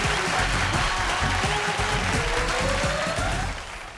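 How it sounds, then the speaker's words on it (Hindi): Studio audience applause at a televised singing talent show, a dense, sustained wash of clapping that stays loud and steady before tapering off at the end. "जोरदार तालियां हो जाए"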